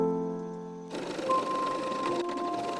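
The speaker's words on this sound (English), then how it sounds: "Sew all panels together with the right sides facing." A sewing machine stitching crop top panels together with right sides facing, starting after a moment of steady tonal background hum and then running continuously and fairly faintly at close range.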